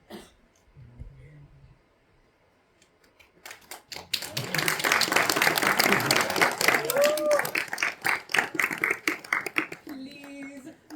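A theatre audience at a staging of Neil Simon's comedy The Good Doctor breaks into applause after a quiet moment. The clapping stays dense for several seconds and then thins out.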